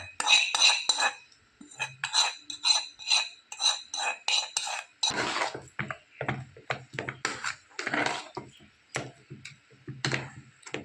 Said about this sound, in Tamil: இப்போ இந்த மிளகு, ஜீரகம், கறிவேப்பிலை, இஞ்சி எல்லாம் சேர்த்து ஒரு கலர் கலக்கிக்கலாம்